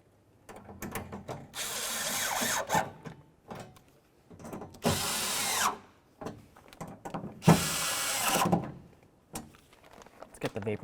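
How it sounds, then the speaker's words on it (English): A power drill drives screws into a door plate on a 2003-08 Toyota Matrix during front window regulator replacement, with three loud, close bursts of a second or so each, separated by quieter handling clicks and tool noise. "Start in all your screws before you tighten any of them up."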